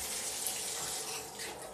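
A DreamSpa rainfall shower head pours a steady, dense hiss of water, close and even throughout, with no voices.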